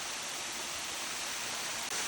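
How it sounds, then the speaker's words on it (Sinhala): Adaa Halena Ella waterfall in Sri Lanka, a steady broadband roar of falling water, close and continuous with no voices. "මෙන්න මෙතන තමයි අඩා හැලෙන ඇල්ල ඔයාලට බලා ගන්න තියෙන්නේ"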